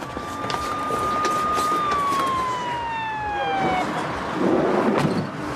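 An ambulance siren wails loudly in a UK street, its tone gliding downward as it passes, with engine rumble and voices nearby; the siren cuts out after a few seconds, leaving traffic noise and talk.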